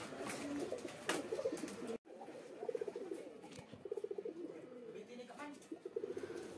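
A pigeon recovering from goham (canker) coos in repeated low, throaty rolling phrases, close and fairly quiet, with faint rustling and scratching between calls.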